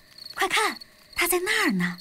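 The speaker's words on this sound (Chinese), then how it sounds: "这是蟋蟀发出的声音。" Crickets chirp in the countryside at night during an animated family camping trip by a campfire, a thin steady chirring beneath children's cartoon voices talking.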